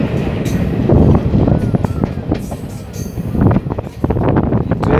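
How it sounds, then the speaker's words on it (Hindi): Train running along railway tracks in India, between Birganiya and Mozhapur, a steady close rumble with rhythmic clatter and brief higher squeals throughout, with faint speech at times. "ट्रेन चल रहा है ना इसी को भी रिकॉर्ड करना"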